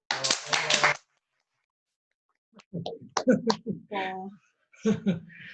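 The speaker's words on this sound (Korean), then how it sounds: "박수" Brief close clapping from a small audience at a graduate-school mentoring talk, a one-second burst of applause followed by silence and then scattered talking.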